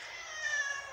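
A cat recovering from an operation gives a single short, fairly close meow, sustained and slightly drawn out, with no talking over it.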